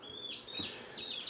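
Young chicks in a brooder box chirp and cluck in a steady run of high, overlapping peeps, close and fairly quiet, with no talking.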